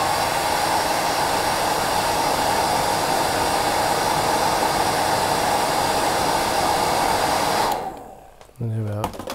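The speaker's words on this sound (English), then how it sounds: "use the hairdryer just to lift the wing back out" A hair dryer blows with a loud, steady whooshing roar for several seconds while lifting the wing of a tied fishing fly, then switches off abruptly, leaving quiet with a brief low hum.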